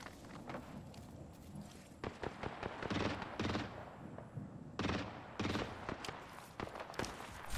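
Gunfire in the video game Apex Legends, with rapid bursts and scattered shots crackling in uneven clusters over busy in-game noise, fairly faint overall.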